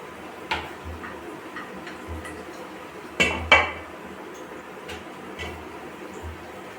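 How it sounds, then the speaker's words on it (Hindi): Dishes, pots and utensils clatter while being washed in a home kitchen, with scattered clinks and a couple of louder metallic bangs over a low running hum. "मैं बर्तनों को वॉश कर रही"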